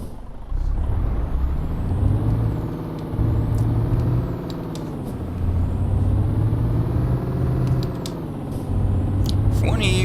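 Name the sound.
truck driving in video game Euro Truck Simulator 2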